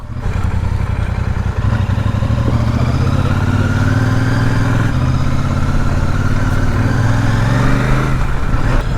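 A Royal Enfield Super Meteor 650 motorcycle ridden in second gear, its engine loud and close with a throbbing exhaust note that rises steadily in pitch as it accelerates.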